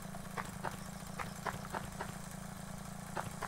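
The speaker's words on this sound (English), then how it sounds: "I hear a lawnmower." Lawn mower engine in a video game, a steady low idling drone with faint periodic knocks, continuous and moderately quiet with no speech over it.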